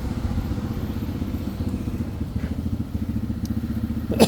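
A Tao Tao Bull 200 four-wheeler ATV engine runs at a steady idle, a close, continuous low rumble with an even pulse and a sharper clunk right at the end.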